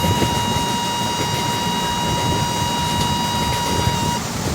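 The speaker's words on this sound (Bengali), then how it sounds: "ডবল ডেকার ট্রেন যাচ্ছে আমাদের সিঙ্গেল ডেকার।" A double-decker train passing in an Indian train simulator game, a loud, steady rushing rumble with a sustained whining tone that holds for about four seconds before cutting off.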